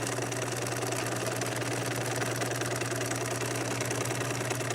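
A sewing machine runs zigzag stitches along a raw fabric edge with a continuous, close, fast mechanical whirring and rhythmic needle chatter throughout.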